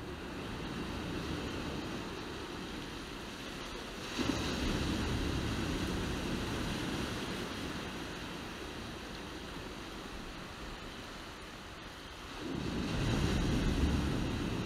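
Ocean waves at Brandy Creek filmed by a drone flying low over the surf, a steady broad rushing wash with wind noise and swells that rise louder at moments, with no voices.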